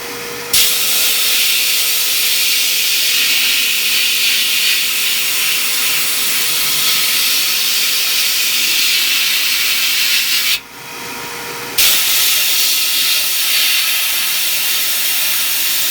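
A blast cabinet fires abrasive at a metal workpiece with a loud, steady, close hiss. The hiss cuts out briefly near the end and then resumes.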